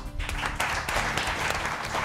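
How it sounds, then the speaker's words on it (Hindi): An audience claps steadily through a short stretch, a dense, continuous wash of applause with no break. "तालियां"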